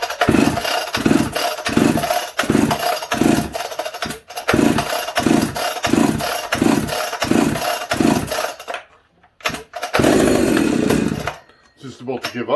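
A Pioneer P61 chainsaw on full choke being pull-started, a loud run of rapid rhythmic recoil pulls with the engine coughing, then short bursts and a brief sputtering catch before cutting out.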